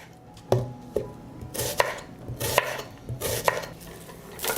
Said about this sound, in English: I will cut 1 onion into slices.